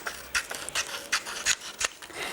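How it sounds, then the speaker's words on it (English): Sharp scissors snip around a printed image for a decoupage card, giving quiet crisp cuts at an irregular rhythm, close and soft, with no talk. "with these scissors, they're so sharp, look, you can snip into the ear"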